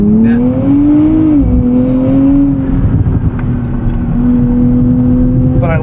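A 2024 Nissan Z NISMO engine drones steadily while driving at night, a loud continuous hum that swells briefly and then holds an even pitch, with road and wind noise underneath.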